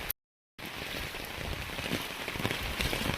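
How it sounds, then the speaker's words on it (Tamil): Light drizzle falls steadily during flooding near Tirunelveli, a soft, even patter of drops on surfaces that continues without pause after a brief moment of silence at the very start. "மழை சாரல் பட்டுக்கிட்டே இருக்கனால"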